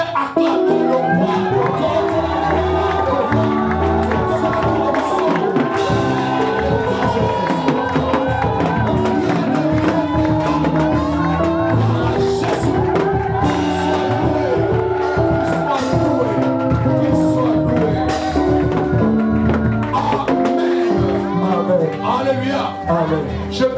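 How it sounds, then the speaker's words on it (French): A church congregation at a Sunday service cheers and shouts praise together, a dense, steady roar of many voices that stays loud and unbroken throughout. "tu vas accompagner tes acclamations avec des cris de joie"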